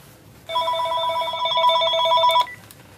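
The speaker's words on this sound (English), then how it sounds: "Oh, my phone's ringing." A mobile phone rings with a bright repeating electronic ringtone for about two seconds, close and loud, then stops.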